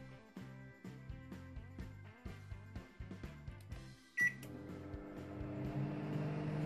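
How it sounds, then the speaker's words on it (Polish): A microwave oven running, heard as a faint, pulsing electrical hum in regular bursts, broken by one sharp beep before settling into a steadier, fuller whir. "Kuchenka mikrofalowa."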